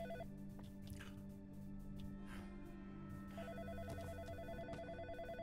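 A telephone ringing in the horror game In Sound Mind, a repeating electronic warble pulsing in bursts over a low droning background with scattered drips and squishy noises, moderately quiet and without speech.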